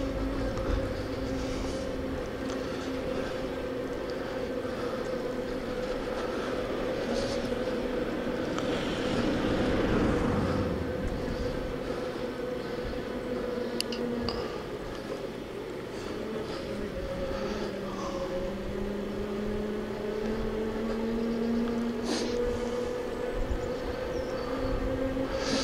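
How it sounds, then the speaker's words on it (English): An Engwe P26 electric bike climbs a steady uphill gradient on throttle alone at about 12 mph. The motor whines steadily under wind and road rumble, and someone talks over it. "Just throttle there, doing about 12 mile an hour."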